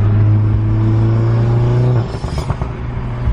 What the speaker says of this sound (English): So the pops I'm getting right now are pretty ridiculous.